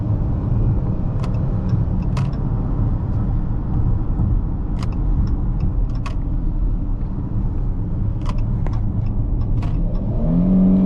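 A 2021 Dodge Charger SXT 3.6 V6 engine revs and accelerates with a steady, growly low rumble, building toward the end; close and loud, no voices.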